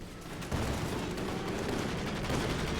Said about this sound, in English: he's calling in the strafing support.